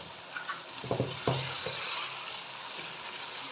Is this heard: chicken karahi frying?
yes